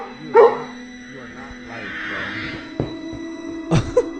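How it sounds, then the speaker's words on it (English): A dog barks in a few short yips near the start and again near the end, loud against a quiet room with a faint hum. "Why is the dog barking?"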